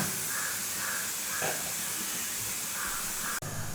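Prawn, brinjal and potato curry simmering in a pan, a steady close hiss and bubbling with soft pops, interrupted by a brief dip near the end.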